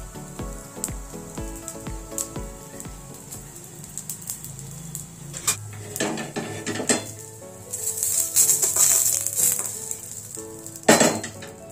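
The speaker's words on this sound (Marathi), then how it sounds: "छान मिरच्या लसूण आणि जिरं छान भाजून घेतलेलं आहे" Chillies, garlic and cumin roast in a pan while a metal spoon clinks and scrapes against it. A light sizzle grows louder near the end of the clip, and no one speaks.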